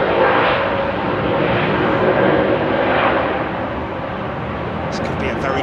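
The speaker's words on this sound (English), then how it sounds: "This could be a very quick rotate here for this lufty 320 Neo" A Lufthansa Airbus A320neo takes off, its jet engines giving a broad, steady roar that holds loud and close throughout, with a few brief sharp sounds near the end.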